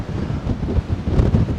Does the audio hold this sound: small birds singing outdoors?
no